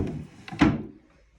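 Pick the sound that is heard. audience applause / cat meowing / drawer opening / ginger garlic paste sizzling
drawer opening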